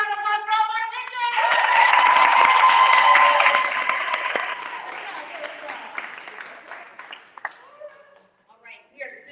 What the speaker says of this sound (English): so we can give one more round of applause for all of our victors.